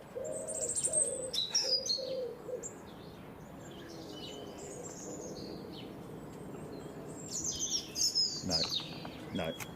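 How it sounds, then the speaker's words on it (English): A pigeon coos softly in the background, while other birds chirp high and bright over steady outdoor noise. Voices talk now and then. "Can hear a pigeon."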